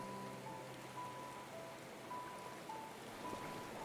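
Steady rain in Final Fantasy XIV's weather effects, a soft, even hiss of falling drops that stays constant and low in level with no talking.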